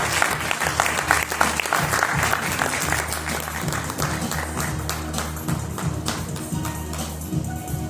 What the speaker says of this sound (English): May I request the audience to please clap for our awardees.